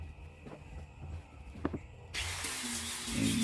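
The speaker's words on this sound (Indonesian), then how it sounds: "untuk sudut-sudut yang tidak rata, agar supaya cepat, kita pakai gerinda ya" An angle grinder works the uneven corners of a small wooden floor-level study table. After a quiet stretch with faint knocks, a loud, steady whirring hiss starts up partway through and keeps going.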